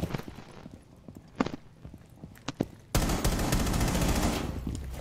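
In Rainbow Six Siege, gunshots are fired through a wall. Scattered sharp cracks come first, then a sudden dense burst of rapid automatic fire that continues loud to the end.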